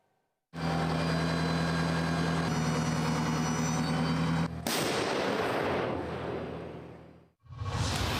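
Paladin self-propelled howitzer firing at an artillery position near Toretsk: a heavy engine drone gives way to a loud, deep blast with a rolling, decaying rumble, then another sharp boom near the end, no talking.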